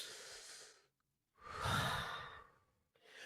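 A man takes deep breaths up close: a long exhale, a short pause, then a fuller, louder breath in and out, with no speech.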